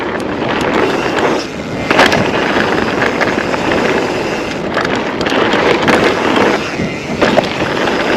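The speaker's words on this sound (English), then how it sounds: "Very windy." Strong wind buffets the microphone in a steady roaring rush with a few sharper gusts, out on a ride over a trail with switchbacks and gap jumps.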